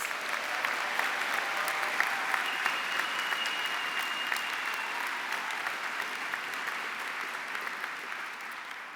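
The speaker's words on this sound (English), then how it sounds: "Give yourselves a round of applause." A steady round of applause from graduates filling the Royal Festival Hall at a graduation ceremony, even and continuous clapping heard from some distance with no talk over it.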